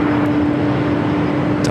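An airplane takes off from LAX runway 25 right with a loud, steady jet engine roar and a constant tonal hum through the brief stretch. No one talks.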